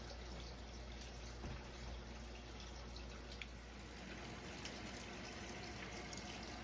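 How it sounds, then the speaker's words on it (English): Water streams into a washing machine through its open electric fill valve, a faint, steady trickling hiss with soft drips, continuous and low in level, with a low hum underneath. "we can still hear the faint hum of the water valve open, electrically open"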